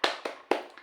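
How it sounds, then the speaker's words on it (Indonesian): A class performs a rhythmic spirit clap, with three sharp group hand-clap bursts spaced about a quarter second apart, followed by softer trailing claps, fairly close. "Oke, kita tepuk semangat."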